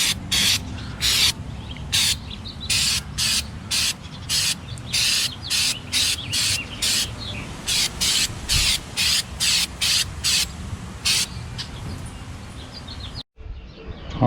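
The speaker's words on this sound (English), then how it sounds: "I'm just gonna spray the seams just to be on the safe side." A Flex Seal aerosol can sprayed along the seams of an aluminum boat: about twenty short, sharp hissing bursts in a quick, steady rhythm, close to the microphone over a low background rumble.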